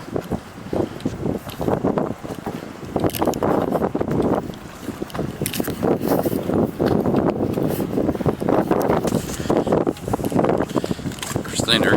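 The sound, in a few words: strong wind of about 30 knots blowing at a wharf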